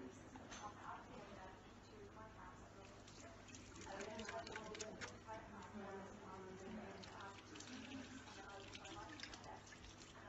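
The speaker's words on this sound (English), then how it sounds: "this is how a normal person would usually wash their hands" A tap runs steadily while someone washes their hands, a soft, continuous spatter of water lasting several seconds, with faint voices mixed in.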